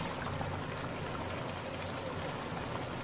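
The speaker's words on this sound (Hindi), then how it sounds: "मैं दूध ऐड करूँगी" Milk pours into a pot of beef palak gosht, a spinach and meat curry, a close, continuous liquid splashing and trickling stream that runs steadily without talk.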